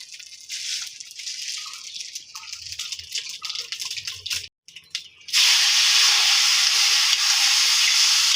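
Mustard seeds hitting hot oil in a pan: intermittent crackling and sizzling, a brief drop to near silence, then a sudden loud, sustained hiss that holds steady to the end.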